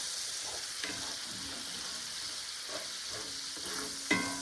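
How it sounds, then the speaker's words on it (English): A steak pan being deglazed with beef broth, a steady broadband sizzle running throughout with a few sharper scrapes of a utensil across the pan bottom, close and moderately loud, no voices. "Just kind of scraping off the bits from the bottom. That's called deglazing."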